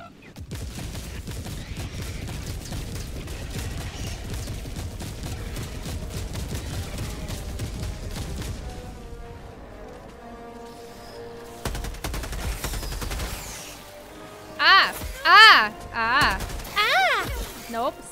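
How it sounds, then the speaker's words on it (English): Orbital barrage strike firing in the video game Helldivers 2, a dense run of rapid blasts with a brief lull, then a few louder separate impacts near the end. A voice talks over the barrage. "Firing orbital barrage."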